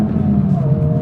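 Honda Civic Type R FL5 with manual gearbox pulling hard in second gear, a steady low engine drone with a rising tone, brief and fairly loud from inside the car.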